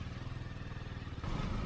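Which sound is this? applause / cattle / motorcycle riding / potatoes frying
motorcycle riding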